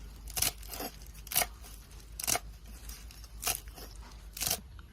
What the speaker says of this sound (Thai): มาซอยขึ้นช่ายไว้นะครับ